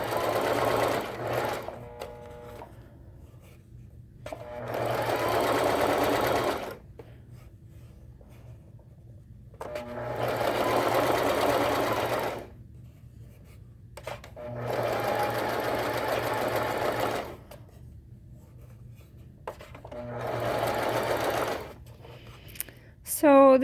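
Sewing machine stitching the hem of a gown, running in four long steady bursts separated by short pauses, close and fairly loud, with a low hum underneath between runs.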